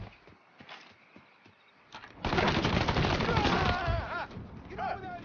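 Bursts of rapid automatic gunfire rattle out in the video game Mafia 3 after a few scattered shots, loud and dense, with a voice shouting briefly over the firing.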